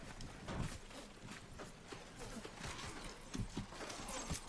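A horse's hooves clop in a steady galloping rhythm in the Mount & Blade game, quiet and mixed with battle clatter and a faint whinny, with a voice talking softly underneath.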